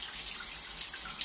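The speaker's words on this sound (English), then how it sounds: "when you open the water" Water runs steadily from a household tap on a hot water line, a faint continuous hiss with no talking.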